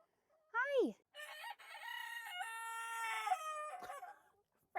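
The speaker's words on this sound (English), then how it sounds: "this little white silky rooster here is Frank." Small white silkie rooster crowing close by, a single drawn-out cock-a-doodle-doo with a rising opening note and a long, strained middle, clear and fairly loud in a quiet yard.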